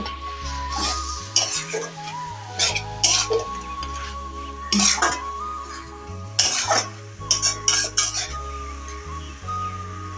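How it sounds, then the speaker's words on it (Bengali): Cabbage and fried fish head sauté together in a pan, stirred with a metal utensil. Uneven bursts of scraping and clinking sit over a soft, continuous sizzle, close up. "ভালো করে কষিয়ে নেব।"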